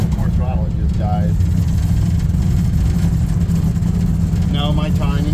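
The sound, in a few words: old truck engine running rough, dying on throttle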